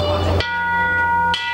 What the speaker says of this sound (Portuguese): Em Pequim, as badaladas anunciam o Ano Novo Chinês chegou